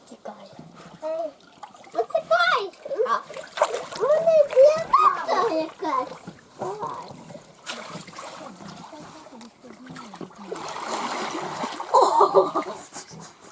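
Children's voices chatter and call out near water, with splashing bursts and a rushing spray of water toward the end.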